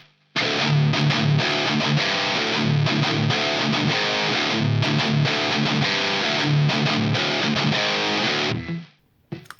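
Electric guitar played through a Marshall JVM amp with the overdrive pedal switched off, giving a loud, dense, crunchy strummed riff that runs steadily for about eight seconds before stopping abruptly, with no talking.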